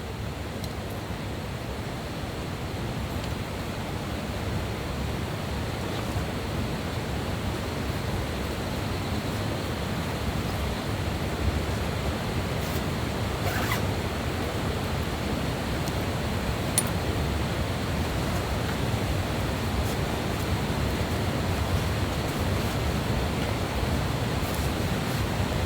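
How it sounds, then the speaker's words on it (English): A loud river rushes steadily beside a rainy campsite, its dense, unbroken roar filling the whole scene with no pauses or voices. "I'm having to shout a bit, I'm afraid, because the noise of the river,"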